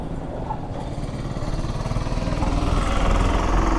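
A cheap electric scooter in India accelerates in second gear, its steady motor and road rumble gradually growing louder over a few seconds, heard close with no talking.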